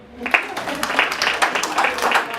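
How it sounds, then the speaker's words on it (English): An audience at a live primary school radio debate breaks into scattered applause. Dense, irregular claps start after a brief pause and carry on steadily to the end, close and fairly loud. "Clap for me."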